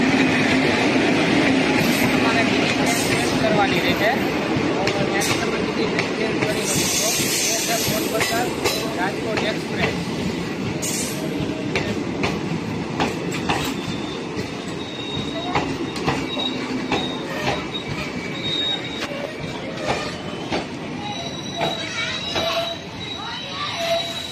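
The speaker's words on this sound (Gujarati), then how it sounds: "આ છે મિત્રો ભાવનગરવાળી ટ્રેન" A Bhavnagar-bound passenger train rumbles steadily past at close range at Lushala railway station, wheels clattering and squealing on the rails, with voices and station noise around it throughout.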